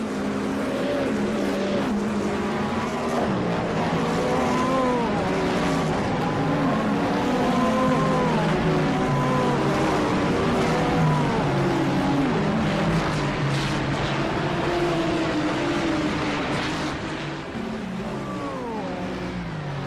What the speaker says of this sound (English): let's listen in to the sound of the engines as they head here through the chicane at Michelin Raceway Road